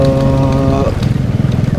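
A Bajaj Dominar 400 motorcycle engine hums steadily, then turns into a rough, uneven rumble with jolting pulses as the bike rides over a muddy, rutted rural road.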